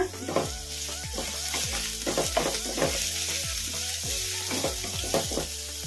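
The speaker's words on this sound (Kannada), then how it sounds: "ಈಗ ಉಳ್ಳಾಗಡ್ಡಿ ಒಂದು ಸ್ವಲ್ಪ ಫ್ರೈ ಆಗಿದ್ದಾವೆ." Medium-sized finely cut onions fry in hot oil in a pan, a steady sizzle broken by rhythmic scraping strokes of a spoon stirring them, close and continuous.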